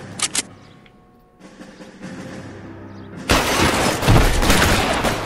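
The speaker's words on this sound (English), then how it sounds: "Where the hell are you shooting?" Gunfire in the video game L.A. Noire: a couple of sharp shots at first, then a dense, loud burst of rapid firing that fills the last two seconds.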